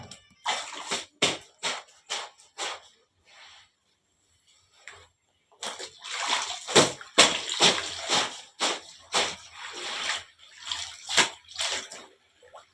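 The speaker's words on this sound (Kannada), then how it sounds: "ನೀರು ಹಾಕ್ಲಿ." Water is poured into a pot on a gas stove in a home kitchen, in a series of uneven splashing bursts separated by short pauses.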